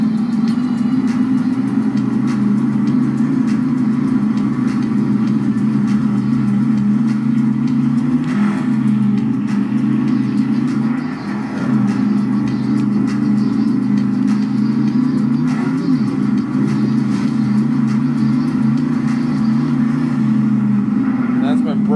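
A monster truck engine in a video game, driven with a gas pedal, drones loud and steady at a constant pitch throughout, with only slight dips, as if held at high revs.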